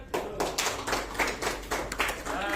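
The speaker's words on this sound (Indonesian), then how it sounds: "Tepuk tangan." Applause from a classroom of students, a steady patter of many hands clapping together throughout, fairly close and uneven in rhythm.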